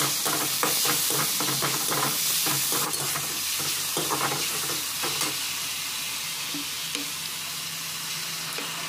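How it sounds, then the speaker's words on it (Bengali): Tomatoes and green chilli being stirred in a hot frying pan, with a steady sizzle and repeated scraping strokes of a spoon against the pan, loud and close throughout. "অল্প করে কাঁচা লঙ্কা দিয়ে দিলাম, দিয়ে ভালো করে নাড়াচাড়া করে মিক্স করতে হবে"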